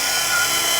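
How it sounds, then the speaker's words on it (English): A V915-A large radio-controlled helicopter flies nearby, its rotors and motor producing a loud, steady, high whine that holds constant with no talking. "Super, super simple helicopter to fly."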